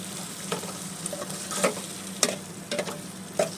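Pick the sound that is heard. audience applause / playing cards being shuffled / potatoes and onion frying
potatoes and onion frying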